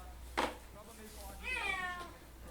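A cat meows once in a rising, drawn-out cry near the end, fairly close but quiet, after a brief sharp knock, with a faint low hum beneath.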